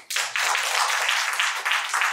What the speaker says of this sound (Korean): 뜨거운 박수로.